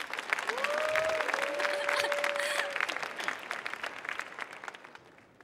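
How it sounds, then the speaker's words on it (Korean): An audience at a science lecture concert in a hall breaks into a burst of clapping. The applause is dense and steady at first, then tapers off toward the end, with a faint tone running through the middle. "응원의 박수 보내주시면 시작하겠습니다"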